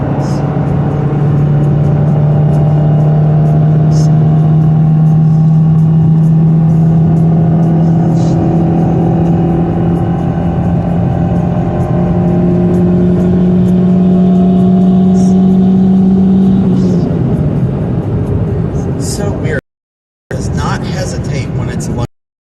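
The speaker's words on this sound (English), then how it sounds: "When it's cruising and the RPMs are low, that's when it starts nailing me with hesitating." A car engine runs steadily at low RPM while cruising on the road, its loud drone wavering and stumbling with hesitation, then cutting out briefly near the end; no one speaks over it.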